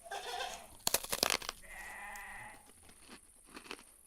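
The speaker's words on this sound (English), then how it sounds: "your flock are munching away on some red berries from a bush" A flock of goats munches on red berries from a bush, with a burst of close crunching and tearing bites, one bleat-like cry, then quieter chewing sounds.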